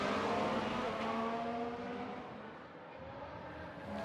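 Ferrari Formula 1 car in an F1 Manager 22 race replay, a loud continuous high engine whine with steady harmonic tones that drift slightly in pitch, fading a little midway then holding.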